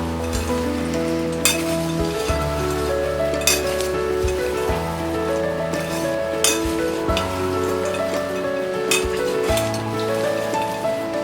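Crispy sabudana chivda is tossed with thin potato wafers in a bowl, giving a steady dry rattling rustle over a continuous bed of background music.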